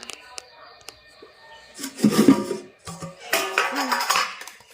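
A cooking pot holding fried rice is opened, with metallic clanks and lid rattles in a few sharp clusters, close by and fairly loud.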